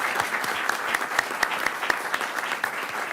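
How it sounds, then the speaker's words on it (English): A crowd at a city council meeting applauds retiring city staff: steady, dense clapping from many hands throughout, fairly close and loud, with no voices on top. "If I could get a big round of applause for both these individuals."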